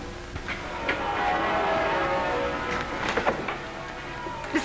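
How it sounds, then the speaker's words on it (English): Church wedding bells peal from steeples across England, a dense, continuous ringing over a hissy background that swells steadily with a few brighter strikes near the end. "Listen to our wedding bells."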